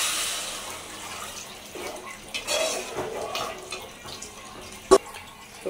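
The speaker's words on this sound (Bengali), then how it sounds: "পানি দিয়ে দিব।" Water is poured into a pot of fried pulao rice, making a steady rushing splash that swells in the middle, plus a sharp clank near the end.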